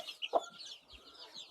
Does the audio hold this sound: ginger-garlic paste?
no